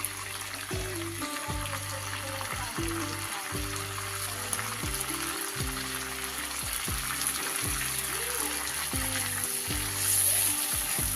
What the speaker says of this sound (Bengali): জিরে ফোড়ন দিয়ে দিলাম